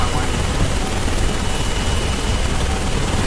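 Helicopter in the Carrier Command 2 video game, a steady loud rotor and engine roar filling the whole stretch without letup.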